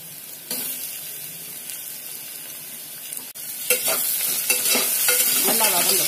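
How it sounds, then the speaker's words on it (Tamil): Bell pepper sautéing in a pan for carrot biryani, a steady close sizzle with a loud scraping stir near the start and more frequent spatula scrapes toward the end. "இந்த குடமிளகாய் போட்டுக்கலாம்."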